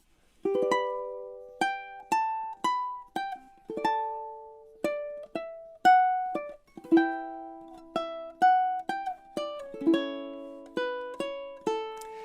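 A ukulele plays a bright melody of plucked notes from Minuet in G, mixed with occasional strums across all four strings, each note ringing and decaying, no talking.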